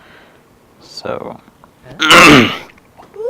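A person clears their throat loudly and close up during a gaming session, one short rasp followed by a longer harsh one, with brief speech around it.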